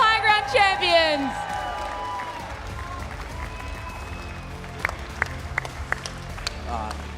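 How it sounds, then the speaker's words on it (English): At the Red Bull High Grounds Fortnite tournament, an announcer's voice gives way to a large crowd applauding and cheering, a broad steady roar dotted with a few sharp claps near the end. "Give it up one more time for Jupiter, Mars, Venus, your Red Bull High Ground champions."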